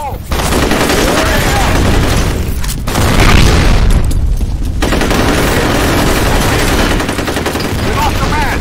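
Combat in the video game F.E.A.R. brings a grenade blast and heavy bursts of automatic gunfire, loud and dense throughout with deep booms rolling under the rapid shots, and voices call out now and then amid the fighting.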